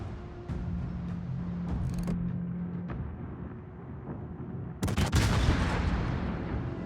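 Naval guns fire in the warship video game World of Warships, a heavy booming salvo bursting out loudly over a steady rumbling background hum, with a few sharper cracks earlier on.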